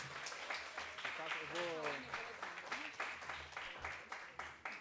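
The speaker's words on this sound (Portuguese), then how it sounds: "Vamos aplaudir de novo ele aqui" An audience applauds the city council president at a youth council session, scattered clapping that rises and falls while a voice talks over it throughout.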